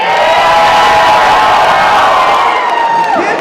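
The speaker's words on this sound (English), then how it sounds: "That was a pretty big cheer." A school band-concert audience of middle-school families and kids cheers loudly in a vote, a sustained roar of shouts and whoops holding at full strength for the whole stretch before easing slightly at the end.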